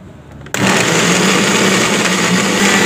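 A blender starts abruptly and grinds ingredients for kuah pliek, a loud, steady high-pitched motor whine with a churning rumble that runs without pause to the end.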